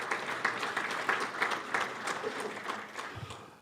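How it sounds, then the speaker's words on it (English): A room of attendees at a weekly meeting gives a round of applause, dense clapping close by that holds steady and then thins out toward the end. "let's just give one more round of applause"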